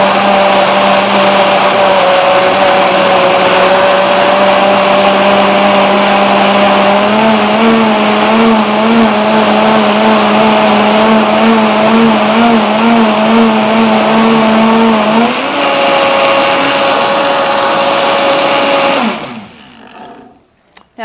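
A Vitamix blender runs loud and steady, liquefying boba tea ingredients with a sustained whirring roar that shifts pitch once partway through, then cuts off abruptly near the end.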